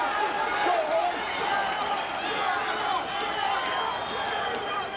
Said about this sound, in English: The crowd starts to shout Gracie.